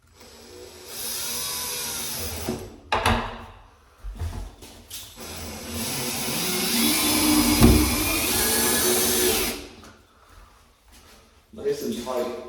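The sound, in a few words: driving screws back into a door hinge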